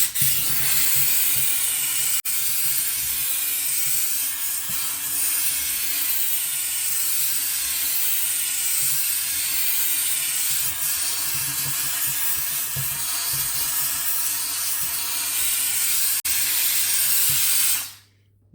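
A Silvercrest SDR 1050 D1 handheld steam cleaner with an angled nozzle blows a loud, continuous hiss of steam close by for about seventeen seconds, then cuts off abruptly.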